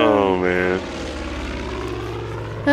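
A propeller plane engine in the video game Far Cry 5 gives a loud droning hum with a rising pitch that drops back, then continues as a steady lower engine drone.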